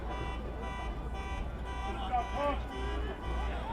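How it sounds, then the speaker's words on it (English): Car alarm sounding from a town center parking lot across from a boys' high school lacrosse game, a repeating tonal wail running steadily at moderate distance beneath crowd noise and an announcer's voice. "The third time this game that a car alarm's gone off the town center parking lot across the way"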